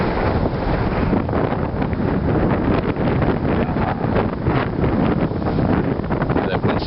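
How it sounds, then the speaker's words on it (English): Wind gusting outdoors during a walk, a steady, loud broadband rush buffeting the microphone without a break, with no clear voices. "That wind's starting to pick up a little."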